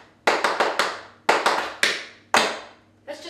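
Tap shoes strike a wooden floor in double shuffles played on the side of the shoe, giving crisp clustered taps in quick trilly groups of two to four with short pauses between them, close and clear with no talking.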